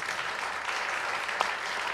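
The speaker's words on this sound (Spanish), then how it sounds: "Por favor, démosle un fuerte aplauso." Audience applause at a small cultural talk event, a soft, steady patter of clapping heard at a moderate distance, with one slightly sharper clap standing out near the end.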